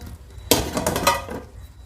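A metal pot lid is lifted during tomato biryani cooking, giving a sudden clanking clatter followed by a brief ringing rattle, close and fairly loud, with no voices.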